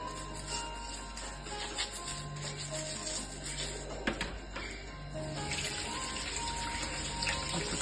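Tap water runs in a kitchen during fruit and vegetable washing: a continuous, fairly faint rushing stream with a small clatter near the middle, and no talking.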